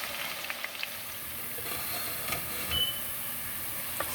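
Onions frying in a generous amount of oil for a party-style Nigerian chicken stew, a steady close sizzle and hiss throughout with a few faint pops and no talking.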